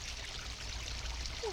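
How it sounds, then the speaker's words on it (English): Floodwater after rain in Montana flows with a steady broadband rush and trickle, continuous and close throughout, with no voices. "it is so flooded down here."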